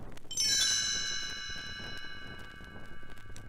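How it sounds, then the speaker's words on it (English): A bright chime, a page-turn cue on a 1977 Disneyland read-along record of The Hobbit, rings once and its shimmering tone slowly fades away over quiet background hiss. "You will know it is time to turn the page when you hear the chimes ring like this."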